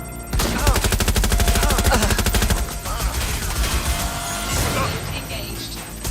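Rapid automatic gunfire bursts in Watch Dogs: Legion, loud and dense for several seconds amid game effects, with a voice shouting over the shooting.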